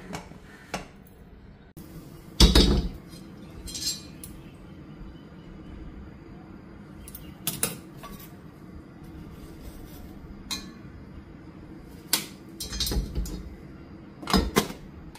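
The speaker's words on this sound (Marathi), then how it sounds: "तोपर्यंत मी झाकण लावून ठेवते" A metal lid settles onto a cooking pot, heard as a sharp clank near the start. Scattered softer clinks and knocks of kitchenware follow across a quiet room, with no talk.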